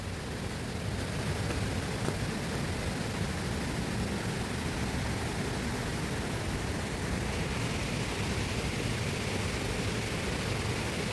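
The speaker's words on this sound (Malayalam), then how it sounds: "ഇവിടെ നിന്നും വരുന്നുണ്ട് ഒരു വെള്ളച്ചാട്ടം" Thommankuthu waterfall in the forest roars as a dense, unbroken wash of falling water, steady and fairly loud throughout with no voices.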